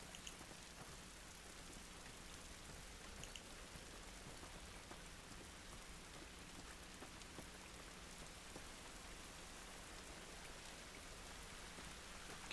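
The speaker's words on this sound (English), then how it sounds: "This rain ain't gonna do us any good." Steady rain falls in The Last of Us video game, a dense, even hiss of drops on surfaces that continues unbroken and fairly quiet for the whole stretch, with no voices over it.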